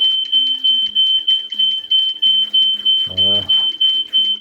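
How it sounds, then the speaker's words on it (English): A home smoke alarm going off, giving a steady high-pitched tone pulsed in rapid, regular beeps throughout, loud and close, with a brief low voice-like sound partway through. "That's my fire alarm."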